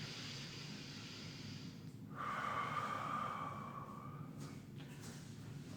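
A person holding a yoga headstand takes slow, deep breaths, a faint airy exhale followed by a long drawn inhale, heard close with no talking.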